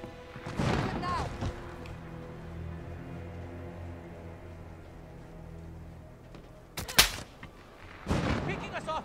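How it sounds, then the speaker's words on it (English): Gunfire in a Call of Duty: Modern Warfare campaign firefight near a highway: a loud burst of shots, a long stretch of low rumbling ambience, then a sharp crack around seven seconds and another heavy burst at the end, with voices heard. "Those shots came from the highway!"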